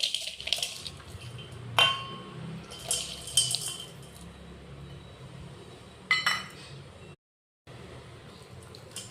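Water pours from a tap over jaggery in a bowl to soak it for panaka, a splashing trickle broken by metallic clinks of a vessel and spoon, with brief pauses and one silent gap.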